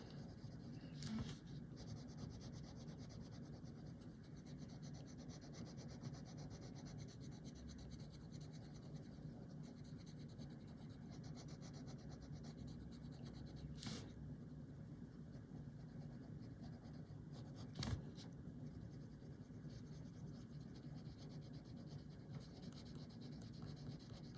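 Maiden Pink coloured pencil burnishing over paper while colouring a flower: a steady, close, quiet rubbing and scratching that continues without pause, with a few brief sharper taps and no voice.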